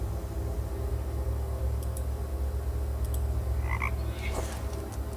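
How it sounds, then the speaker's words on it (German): Frog croaking in the video game Raincliff, a few short croaks rising briefly over a steady low ambient hum, with no one talking. "Ach, der Frosch schon wieder."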